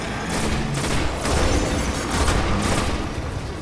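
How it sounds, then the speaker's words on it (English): Fallen Shank hovering turrets firing in the Destiny video game: a dense, continuous barrage of rapid shots and booming impacts, loud and close, filling the whole stretch without letup. "Fallen packs enter battle with hovering turrets called SHANKS that confuse and harass their foes"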